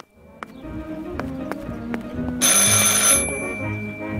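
A telephone rings in the horror video game Martha Is Dead, its ring rising loud and bright partway through over low game ambience and footstep-like thuds.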